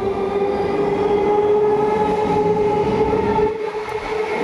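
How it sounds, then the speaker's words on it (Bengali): A train pulls away from Ambika Kalna station platform heading toward Howrah, with a loud continuous rumble and a steady hum that eases and thins near the end as it moves off. "ট্রেন কিন্তু গন্তব্য হাওড়ার দিকে চলে গেল"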